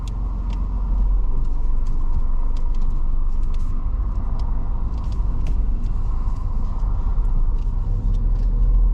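A car driving along a road in Swindon during a mock driving test, a steady loud low engine and tyre rumble with road noise, constant throughout without any talk.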